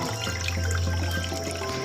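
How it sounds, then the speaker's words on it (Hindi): A waterfall tumbles into a calm lake on a handmade landscape model, giving a loud, close, continuous rush of falling water with no breaks. "झील के उस शांत पानी में हलचल पैदा करता हुआ वो गिरता झरना"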